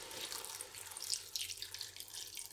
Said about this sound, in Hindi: अब हम थोड़ा सा इसमें पानी डाल के इसको पकने के लिए रख देंगे।